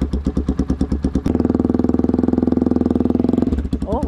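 A motorcycle exhaust fitted with an aftermarket muffler, checked by a traffic enforcer for sound level, idles in loud uneven pulses, then rises into a sustained half-throttle rev for about two seconds before dropping back; voices talk briefly near the end.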